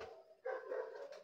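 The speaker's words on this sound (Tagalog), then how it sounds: "Aso dyan." A dog barking somewhere nearby at night, a couple of faint, short yelping barks with a whining tone.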